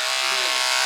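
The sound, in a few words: hair clippers cutting hair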